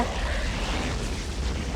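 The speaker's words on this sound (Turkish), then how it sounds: "Nükleer patladı arkadaşlar." A nuclear explosion in the Roblox game Eat a Friend fills the clip with a dense, sustained, rumbling roar, loud and steady throughout with no break.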